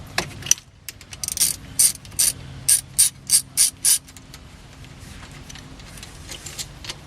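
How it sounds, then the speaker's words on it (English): A 9/16 socket ratchet clicks in short, loud, evenly spaced bursts as it loosens the bolts holding a wheel hub, then the clicking fades to faint handling noise. "let me get the appropriate ratchet"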